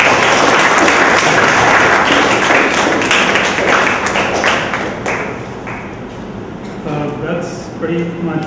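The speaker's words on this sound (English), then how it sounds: "Let's give a big round of applause." An audience at a talk session applauds, a dense burst of clapping that thins and fades out toward the end as voices begin to talk.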